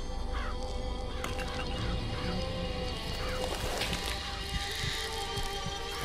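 A dense flock of crows caws and squawks continuously over a thick, noisy game soundscape while the Murder of Crows vigor is used in the video game Bioshock Infinite.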